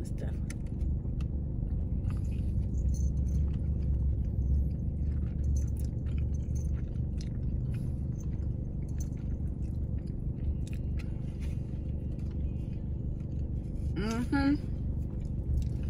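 Biting and chewing Biscoff cookie doughnuts in a car, soft squishy chewing close up under a steady engine hum, with a brief voice near the end.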